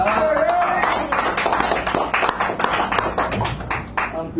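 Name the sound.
audience clapping for poet Alan Harris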